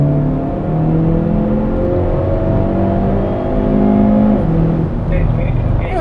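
A Hyundai Veloster N with a 2-liter turbo engine and 8-speed DCT drives hard on a track, its engine droning loud and steady with shifting pitch, heard from inside the car while a voice talks over it.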